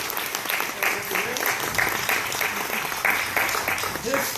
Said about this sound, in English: You all can give her a round of applause.